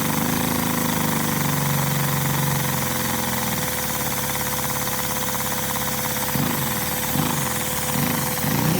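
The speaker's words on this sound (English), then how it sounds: "See, we can get the idle just where we want it." A small Lego vacuum engine runs at a low idle, a steady mechanical chugging and buzzing hum, close and fairly loud, with a slight shift in rhythm partway through.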